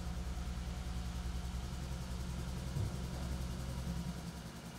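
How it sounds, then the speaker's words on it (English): A Polaris RZR 900 side-by-side engine idles steadily while warming up on level ground, giving a continuous low, even rumble with a faint vibration and no voices. "Start the engine and allow it to warm up at idle for 2 to 3 minutes."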